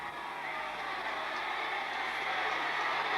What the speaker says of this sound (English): And you can hear the crowd now